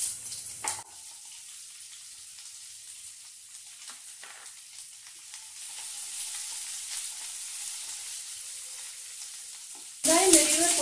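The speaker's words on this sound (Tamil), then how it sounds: "பூண்டு கொஞ்சம் ஃப்ரை ஆனதுமே நம்ம வெங்காயம் போட்டுக்கலாம்." Garlic frying in hot oil after mustard seeds have popped, a soft steady sizzle at close range that swells louder near the end as onions are added.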